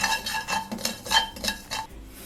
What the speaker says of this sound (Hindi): अब ये जो कलौंजी है इसे ऐसे ही गरम कढ़ाई में डालना है, चूल्हा नहीं ऑन करना, बस ऐसे ही हल्का सा फ्राई कर लेना।